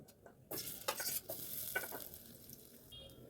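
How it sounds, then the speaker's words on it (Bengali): Young jackfruit fries quietly in a wok, a low sizzle with bursts of stirring and scraping from a spatula early on, then a gentler hiss toward the end, with no voices. "এইবারে আমি এঁচড়গুলোকে হালকা করে ভেজে নেব"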